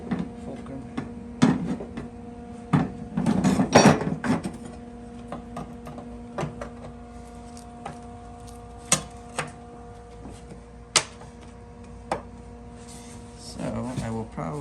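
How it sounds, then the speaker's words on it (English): Sheet metal pried up off a low spot with a hammer used as a fulcrum in a garage: scattered sharp taps and clicks, a brief scraping, creaking burst near the start, over a steady electrical hum. "Let's use the hammer as a fulcrum."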